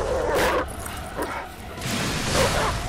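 A monstrous dog boss from the video game Lies of P barks and snarls loudly over dense game noise and music, with a couple of rough bursts.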